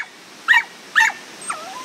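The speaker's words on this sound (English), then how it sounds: "What's all that barking about?" A dog outdoors by a waterfall in a glen gives two short yelping barks followed by a thin whimper, fairly close and clear over quiet background.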